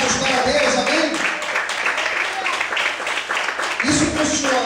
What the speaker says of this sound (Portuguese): Mais aplausos para Deus